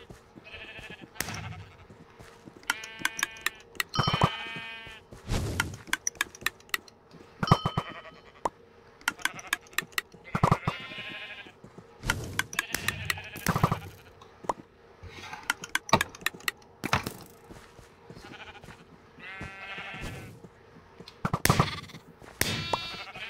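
Sheep in the game Sheep Quest 4 bleating again and again, a scatter of short wavering baas at irregular intervals, some overlapping, mixed with sharp clicks and game effects.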